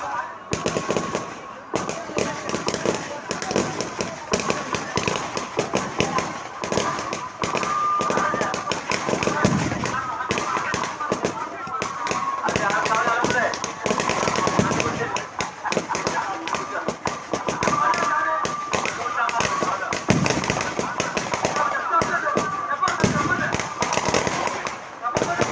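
Firecrackers burst continuously in a dense, rapid crackling barrage for the whole stretch, loud and close, with people talking over the noise.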